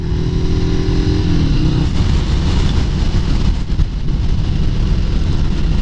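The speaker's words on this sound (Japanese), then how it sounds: "ルネッサがさすがサーキット走ってるよ" A Yamaha SRV250 Renaissa motorcycle rides around Suzuka Circuit, its engine droning loud and steady throughout, with slight shifts in pitch and wind rush.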